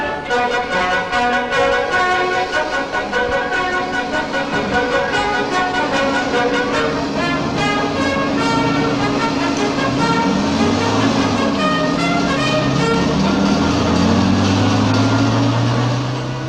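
The Incredible 7, a small production car, runs with a loud, steady engine drone whose buzzing tones hold unbroken throughout, close and prominent with no voices.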